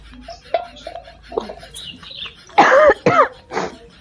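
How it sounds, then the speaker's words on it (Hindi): A few scattered quiet sounds, then a burst of harsh, close coughs, three or four in quick succession. "खांसी आवती है"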